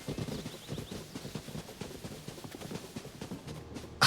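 A horse in Zelda Tears of the Kingdom gallops with rapid, rhythmic clip-clop hoofbeats at moderate volume, ending in a sudden loud burst, with no voices.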